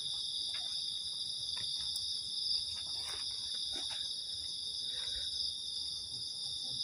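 Crickets chirp steadily at night during a haunted-building camping trip, a dense, continuous high-pitched trill with a few faint rustles and knocks underneath and no talking.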